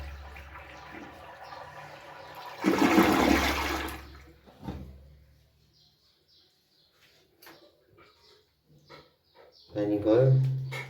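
A toilet flushes loudly in a sudden rushing burst, then the water drains and trickles away to near silence before another surge of water near the end.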